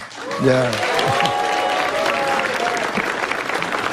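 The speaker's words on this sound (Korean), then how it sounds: "아니, 막 박수 치지 마시고요." Studio audience applause in a live Korean political talk show broadcast, a dense burst of clapping that starts as a voice trails off and keeps up steadily for several seconds with talk over it.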